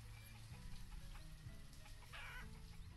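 Chickens in the village-building video game Banished cluck softly in short, repeated bursts over a quiet background hum, with no voices present.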